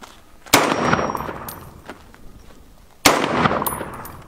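Two sharp, loud single shots from a SCAR 17 rifle in .308 fired at outdoor targets, each a sudden blast with a long decaying ring, spaced a few seconds apart.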